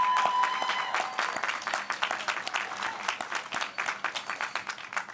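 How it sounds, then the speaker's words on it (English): Audience applause at the Harvard Law School 2024 Class Day graduation ceremony, steady dense clapping from a large crowd throughout, fairly close and sustained without speech. "let's clap it up for Parity."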